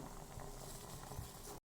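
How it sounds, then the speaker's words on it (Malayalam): A pot of rosemary water at a hard rolling boil on a stove gives a steady, close bubbling roar that cuts off abruptly. "ഇനി നല്ലോണം വെട്ടി തിളച്ചോട്ടെ."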